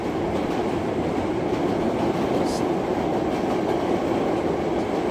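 An R46 subway train, car 6193 on the B line, runs through a video game with a steady, loud rolling rumble and track noise that holds for the whole stretch, with no talking.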